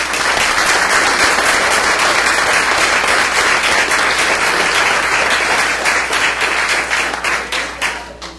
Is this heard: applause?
yes